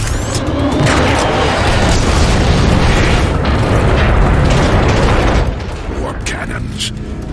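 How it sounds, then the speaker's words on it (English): Warp cannon blasts thunder through a battle in the video game Transformers: Fall of Cybertron, a dense, sustained roar of booming explosions that holds loud for about five seconds before easing to a lower rumble. "Warp cannons. Megatron isn't holding back anything this time."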